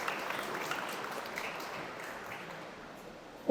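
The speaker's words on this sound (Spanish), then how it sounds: "Les pido un fuerte aplauso para el procurador" Steady applause from an audience at a speech for Honduras' attorney general, moderately loud and sustained, thinning slightly near the end before a sudden louder burst.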